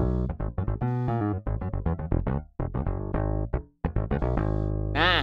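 A sampled EZ Bass virtual bass played from a MIDI controller runs through a quick series of plucked, punchy low notes with short gaps, then ends on a brief sliding note, loud and alone.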